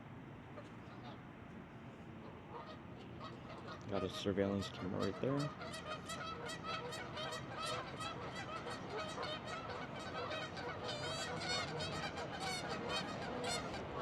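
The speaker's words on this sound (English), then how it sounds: "I don't know if you hear the geese in the background." Geese honk repeatedly at Donnelly Park, a rapid run of sharp, nasal calls from a flock that grows busier and louder midway, mixed with a brief spoken remark.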